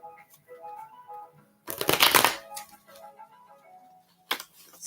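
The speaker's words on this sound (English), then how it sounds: "So I am going to shuffle the cards" Tarot cards are shuffled in one dense riffling burst lasting under a second, then a brief second flick, close by amid quiet room tone.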